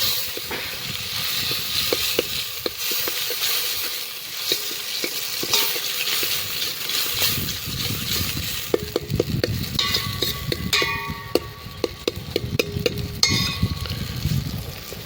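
Stirring a sizzling eggplant olo mixture with tomatoes in a pan on a farm: continuous frying hiss with repeated scraping and clacking of the spoon against the pan, close and steady for the whole stretch.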